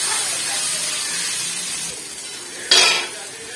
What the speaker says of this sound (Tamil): வெங்காயம் கண்ணாடி பதம் வர வரையும் நல்லா வதக்கி விட்டுக்கலாம்